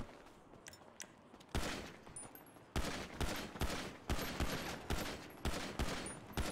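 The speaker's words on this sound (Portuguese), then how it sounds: "olha o tiroteio, olha o tiroteio." Bursts of automatic gunfire crack out in a Grand Theft Auto street shootout, starting with a few scattered shots and then building into rapid, repeated volleys that stay loud and close.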